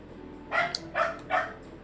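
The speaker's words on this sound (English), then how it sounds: "sorry for my dogs are barking." Three sharp dog barks in quick succession, somewhat distant, over a faint background hum.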